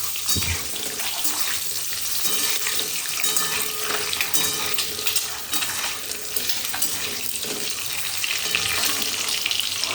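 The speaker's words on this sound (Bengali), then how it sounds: "চলো ডিমগুলো ভেজে নিই। আগে হলুদ দিয়ে হালকা করে ভেজে নিই।" Loud, constant crackling sizzle of eggs frying in oil with turmeric, dense and close throughout with no voices.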